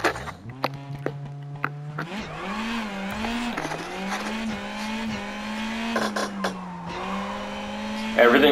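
Rally car in a WRC Generations video game replay on tarmac, engine note holding steady then climbing and shifting through gears, with someone talking over it.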